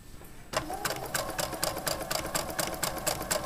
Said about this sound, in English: lower my presser foot onto my fabric and begin to sew, and I always back stitch at the beginning and at the end